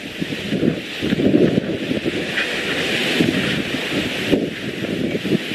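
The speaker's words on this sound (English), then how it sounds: "It is quite windy here, folks." Strong Hurricane Irma wind gusts in Orlando, 2017, buffet the microphone in uneven surges, a loud roaring rumble rising and falling with rustling in the background.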